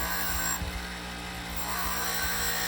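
A power grinder works around the outside of a metal recycle-symbol sign, giving a steady, loud broadband whine that dips briefly in the middle before continuing, with no talking.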